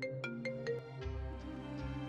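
A mobile phone ringtone plays a short electronic melody of quick repeated tones, clear but fairly quiet.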